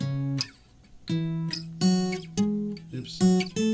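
Guitar octave shapes moved across the roots of a major pentatonic, several plucked two-note octaves ringing briefly one after another with small gaps, close and clear with no talking.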